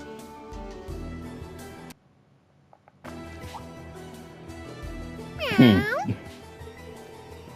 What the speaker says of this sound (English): Oh, it's just a cat.